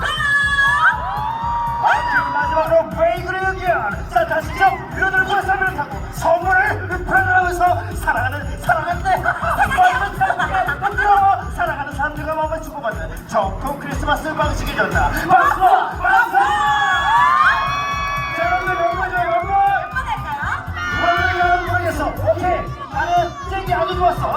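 A crowd shouts and cheers over loud, rhythmic beat-driven music at an Everland Christmas show in the Santa Village. Children's voices and whoops rise in waves throughout, and the crowd noise stays continuous and close.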